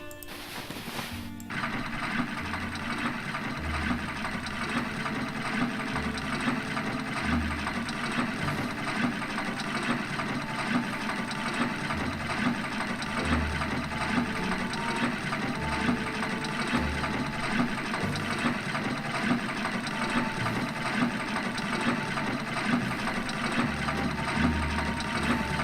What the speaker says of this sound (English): I can start sewing